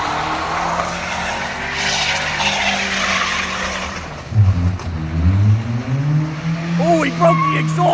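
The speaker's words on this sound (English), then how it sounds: "Time to make the donuts" A Toyota Camry spins donuts with a broken exhaust, its engine droning loud and close while the tires skid and squeal, rising in pitch as it revs near the end.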